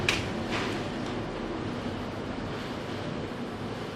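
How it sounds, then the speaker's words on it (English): Strong wind blows outside during a tornado warning, a steady loud rushing roar buffeting the microphone throughout, with no voices. "the wind is just so bad outside"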